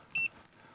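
A single short electronic beep from a button press on an Autophix 9150 scan tool, clear and close, lasting a fraction of a second over a quiet background.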